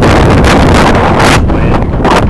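Strong wind gusts buffet an outdoor microphone on a cold January day in Missouri, producing a loud, continuous roaring rumble that surges and eases in waves, with no voices heard.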